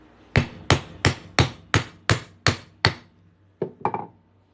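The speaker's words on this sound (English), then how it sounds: "Grab our hammer, just drive it on through." Eight sharp, evenly spaced metal hammer strikes ring out, then a short pause and two or three quicker, lighter taps, driving a 1/2-inch center punch through a silver coin.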